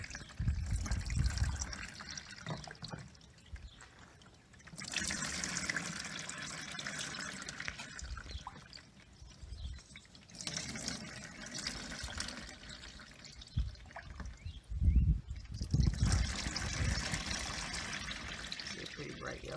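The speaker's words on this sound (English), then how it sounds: "No difference between the buckets of water, it's just extra water." Plain tap water poured from buckets over ice for ice dyeing, coming in several separate pours of splashing and trickling with quieter gaps between them, and a voice talking at times.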